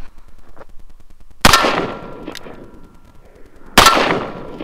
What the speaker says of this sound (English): So let's shoot it with the revolver.